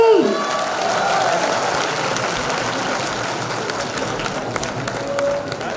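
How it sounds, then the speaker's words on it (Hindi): Sustained applause from a crowd at a political welcome ceremony for a public leader, broad steady clapping filling the whole stretch with an announcer's voice faintly over it. "प्लीज जोरदार तालियां बजाते रहिए आप सभी।"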